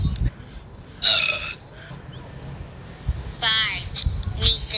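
Burps in a burping contest: a long throaty belch near the start, then a second drawn-out burp and a short one near the end, with voices talking in between.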